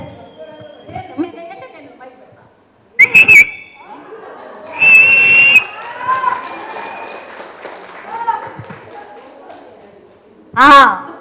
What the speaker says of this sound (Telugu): సూపర్ విజిల్స్ వచ్చినాయి